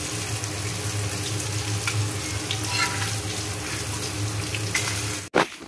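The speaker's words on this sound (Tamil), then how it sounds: "அடுப்பில் ரோஸ்ட் பண்ணிக்கிட்டு இருக்கேன்." Fish roasting in a pan on the stove gives a steady close sizzle and crackle, with a sharp clatter near the end.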